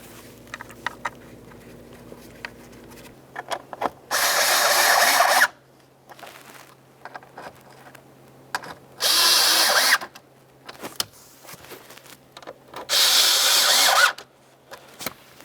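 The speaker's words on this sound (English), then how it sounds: "go ahead and start in all three of your screws before tightening any of them up" A power drill drives screws into a blower motor on a 2009–2020 Dodge Journey, three loud bursts of whirring, each lasting about a second or two, separated by quieter clicks, handling noises and a low steady hum.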